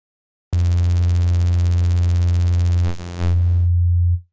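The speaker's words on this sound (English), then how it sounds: "So without any phase modulation, we have a basic sine wave." A synthesizer oscillator plays a plain, steady sine tone without phase modulation, loud and sustained for several seconds, with a brief dip and slight timbre change near the end before it stops.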